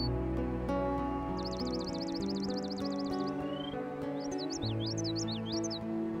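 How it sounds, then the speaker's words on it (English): A swamp sparrow and a northern waterthrush sing in a wetland. A rapid, even trill repeats for about two seconds, followed by a quick series of sliding chirps. Both play over a continuous bed of soft music. "The swamp sparrow and the northern water thrush nest in this habitat."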